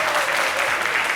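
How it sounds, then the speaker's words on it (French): A studio audience on a French-language midday talk show claps in a brief, dense burst of applause that stays steady throughout. "il faut applaudir pour ma maman"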